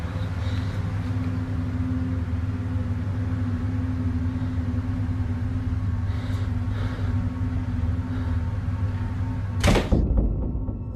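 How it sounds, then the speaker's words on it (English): Two doors in a house swing open by themselves, heard as one abrupt, fairly loud thunk near the end after a long stretch of steady low room hum. "the two doors open on their own, seemingly at the same time"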